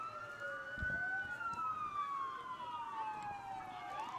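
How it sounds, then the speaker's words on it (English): Wailing fire truck and emergency vehicle sirens sweep up and down steadily at a Christmas parade, with more than one siren overlapping above a low rumble of road traffic. "You hear the sirens of the fire trucks and emergency vehicles."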